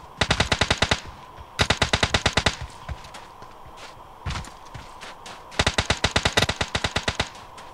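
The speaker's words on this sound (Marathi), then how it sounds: "फायरिंग. कोणतरी दुसरी टीम आहे." Automatic gunfire in the mobile game PUBG Mobile: several rapid bursts of sharp, evenly spaced shots, loud and close, with short pauses and a single isolated shot between them.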